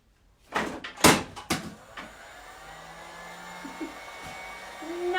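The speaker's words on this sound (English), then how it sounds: "Knocked over my dryer." A hair dryer is knocked over and falls in a room where someone is painting, giving a few sharp clattering knocks close by, then a low steady hum continues with small bumps.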